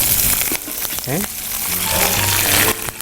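Curry leaves crackle and spit as they hit hot oil, a loud burst of sizzling with sharp pops near the start that settles into a steady fry, accompanied by a few clanks.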